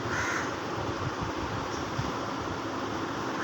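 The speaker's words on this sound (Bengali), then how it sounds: "এই কাক ডাকছে, শুনতে পাচ্ছেন আপনারা?" A crow caws against a steady background hum on a quiet morning, the calls distinct but not especially close.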